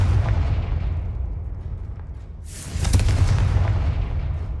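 The Confringo spell explodes in the video game Hogwarts Legacy: a bright burst lands midway over a continuous low rumbling background, then a deeper booming tail rolls on beneath it.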